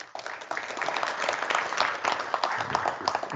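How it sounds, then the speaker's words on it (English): An audience at a cartography and GIS conference opening session applauds an award recipient, the clapping starting abruptly and building into a steady, moderately loud round. "please give a warm round of applause for Terry Slocum"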